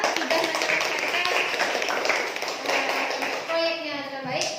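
Classroom of children applauding a student group, a burst of fairly loud, quick hand clapping from many pupils, mixed with a teacher's voice and children's chatter.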